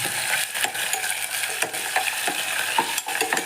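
Onions sizzling in hot oil in a pan, a steady frying crackle with occasional light clicks of a spoon stirring, close and continuous.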